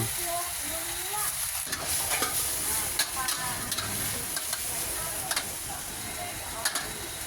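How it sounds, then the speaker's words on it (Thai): Chinese kale and crispy pork stir-fried together in a wok, giving a steady sizzle with scraping spatula strokes and clinks throughout, close and moderately loud, no talking. "ใส่หมูกรอบลงไปเลย แล้วก็ผัดให้เข้ากันอีกไม่เกินครึ่งนาที"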